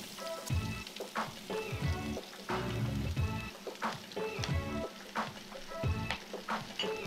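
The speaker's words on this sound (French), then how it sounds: "On va faire revenir les oignons dans un filet d'huile d'olive, à feu moyen pour ne pas brûler le tout." Onions frying in a drizzle of olive oil over medium heat for onion soup give a continuous sizzle broken by repeated scraping stirs, close and moderately loud.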